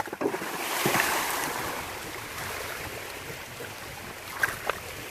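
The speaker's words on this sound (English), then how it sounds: "The biggest splash." A big rock thrown into lake water off Kelly's Island, Ohio, lands with a broad splash near the start, followed by wind and lapping water, with a few small splashes near the end.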